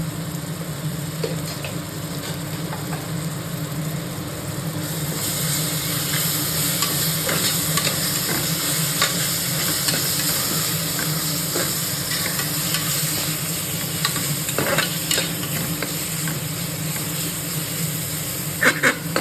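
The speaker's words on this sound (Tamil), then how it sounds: "அடியில் பிடிக்காமல் நல்லா வதக்கி விடணும்." Mutton biryani masala is stirred and sautéed in a pan, giving a steady sizzle with repeated scraping and clinking of the spoon against the pan, close and continuous with no talk.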